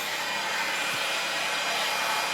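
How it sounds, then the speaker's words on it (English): A hairdryer runs at full power off a VoltX 300Ah lithium battery system, giving a steady, loud, close airy roar with no pauses and no voices. "Finally get to use a hairdryer at full power."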